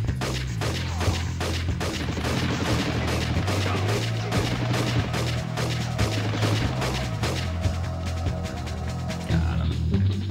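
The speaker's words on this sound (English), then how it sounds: "He's gonna shoot Scorch" Dense, continuous gunfire and explosions from the Army Men Sarge's Heroes 2 video game crackle and boom without pause, loud and close throughout a battle sequence.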